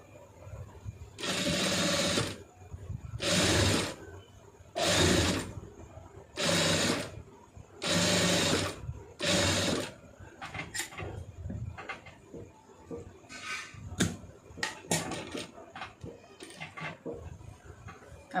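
An electric sewing machine stitching a neck design runs in five steady bursts of rapid whirring, then gives shorter stop-start runs and clicks as the fabric is turned.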